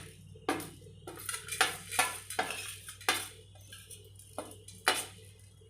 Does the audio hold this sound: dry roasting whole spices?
yes